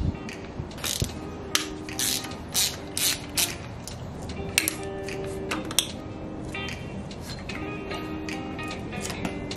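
A hand ratchet clicks in quick, uneven bursts while removing the alternator from a Nissan KA24DE engine during a teardown, with close metallic pawl ticks and short pauses between strokes.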